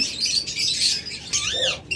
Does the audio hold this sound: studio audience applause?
no